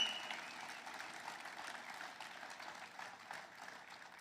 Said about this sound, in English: And while you're at it, while you're still clapping